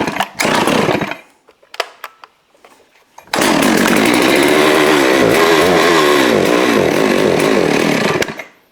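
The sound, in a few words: Neotec 892 Stihl clone chainsaw running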